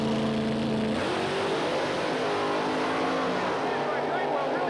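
A Chevrolet-powered Camaro funny car launches at a 1987 Wild Bunch drag race, its big engine roaring steadily, distant and somewhat muffled, while an announcer talks over it.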